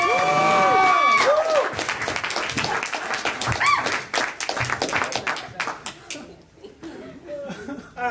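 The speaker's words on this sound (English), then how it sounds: "Give a big round of applause for David Scandy." An audience at a stand-up comedy show claps and laughs, applause fading to scattered clapping and chuckles while people talk over it.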